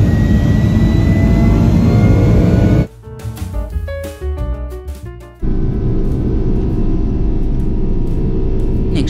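Loud, steady roar of a Delta Boeing 757-200 jet engine during a night takeoff from Phoenix, heard from inside the cabin. A few seconds of tonal, music-like sound interrupt it midway before the engine roar returns.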